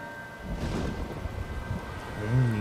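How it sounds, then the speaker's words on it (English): A night thunderstorm in the video game L.A. Noire: a steady wash of rain with deep rolling thunder that swells and rumbles throughout, no voices. "Dark and stormy night."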